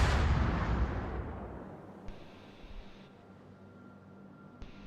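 Naval gunfire in World of Warships aimed at the Napoli: a heavy booming salvo that rolls off and decays over a few seconds, followed by fainter distant reports.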